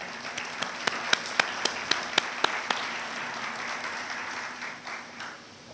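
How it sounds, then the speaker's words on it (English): Audience applause at a groundbreaking ceremony for a conference and convention center: a crowd of scattered claps, loud at first, then thinning out and fading over several seconds. "please join me in a round of applause for Dan Baker, the authority chairman."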